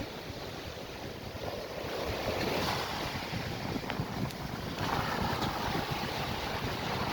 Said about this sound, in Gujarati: કેટલા સરસ મજાના મોજા આવી રહ્યા છે.